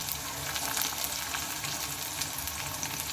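Chopped onion and green chili frying in a pan, a dense continuous sizzle with a few stirring scrapes, close and steady.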